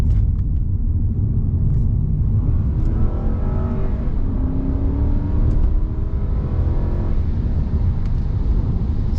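A 2005 Lexus LS 430 accelerating hard from inside the cabin: a steady low engine rumble with rising revs sweeping up through the gears, smooth and continuous with no talk.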